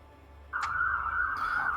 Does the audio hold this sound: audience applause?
no